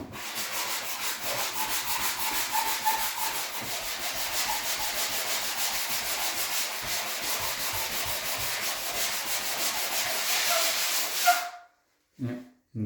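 Patched drywall crack being sanded smooth, a close, steady, rasping scrub with a rhythmic back-and-forth texture, continuing for about eleven seconds before stopping abruptly.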